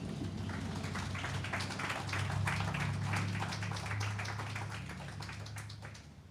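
An outdoor open mic crowd on King Street claps after a poetry reading, with steady, moderately close applause that swells midway and then tapers off.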